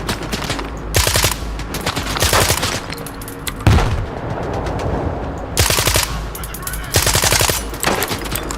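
Gun firing in STALKER 2: loud, rapid machine-gun bursts repeating in several clusters with short pauses between, plus a heavier boom partway through and no talking.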